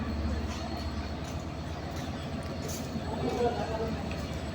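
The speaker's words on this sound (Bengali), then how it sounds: "আমাদের ঢাকামুখী আন্তনগর সুন্দরবন এক্সপ্রেস ট্রেনটি কিন্তু এই মুহূর্তে ভাঙ্গা রেল স্টেশন ছেড়ে যাচ্ছে" The Sundarban Express intercity train pulls out of Bhanga railway station at night, a steady low rumble of wheels and carriages heard from on board, with a voice faintly present underneath.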